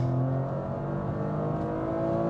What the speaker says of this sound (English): There goes the turbo.